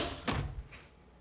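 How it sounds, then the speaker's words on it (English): A microwave door swings shut with a solid clunk followed by a softer latch click, close by in a kitchen while butter softens inside, no voices. "close the microwave door"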